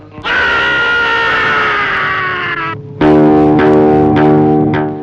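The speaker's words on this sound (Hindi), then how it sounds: "यकायक किसी के चीखने की आवाज आई।" A loud, sustained scream rises and holds for a few seconds, breaks off, then a second harsh, strained cry follows, close and alone.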